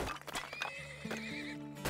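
Horses in the video game Turmoil whinny loudly, a close, wavering neigh stretched over about two seconds, mixed with brief hoof clip-clops.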